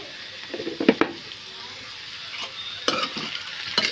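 Bottle gourd pieces with salt and turmeric are stirred in a pan, a quiet steady sizzle broken by several scraping, clattering strokes of the spoon.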